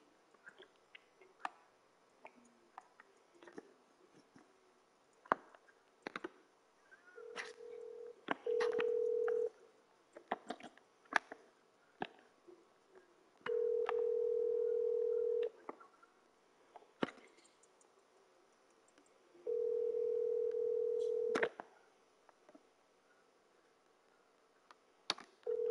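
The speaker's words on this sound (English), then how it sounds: "Call Umi." A phone call being placed in the 2K21 video game: soft scattered clicks and ticks, broken by three long steady ringback tones, each about two seconds, spaced several seconds apart, with no talking.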